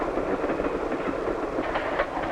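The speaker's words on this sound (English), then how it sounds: "sometimes the train goes through the mountain itself" A train runs through a mountain tunnel on a 1950s film soundtrack, giving a dense, even rumble with a faint rhythmic clatter of wheels throughout, heard alone.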